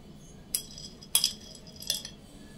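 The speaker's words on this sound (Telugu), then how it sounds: "నేనైతే ఒక స్పూన్ గుమ్మడి గింజలు వేస్తున్నాను, పంకిన్ సీడ్స్." A metal spoon taps against a bowl while adding pumpkin seeds to oats and chia pudding, three brief, light clinks spaced about half a second apart, close and fairly faint, without talking.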